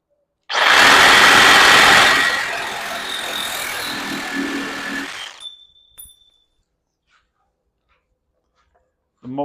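A cordless reciprocating saw cuts through 1.25 inch pipe in one loud, continuous buzzing run of about five seconds, then stops, leaving a short fading ring and near silence.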